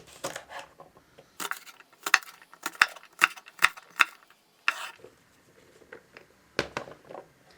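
Green beans held in a bundle in the hand and thinly sliced with a knife, a series of crisp, sharp cuts in uneven bursts separated by quiet gaps, recorded up close.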